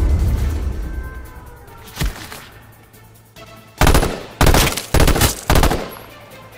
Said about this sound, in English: I'm getting shot from all sorts of directions right now.